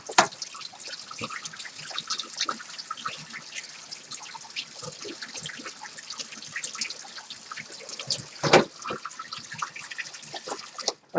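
Water runs and trickles into a kitchen sink as a knife is rinsed after cutting tomatoes, a steady close splashing with small irregular drips and one brief louder clatter near the end.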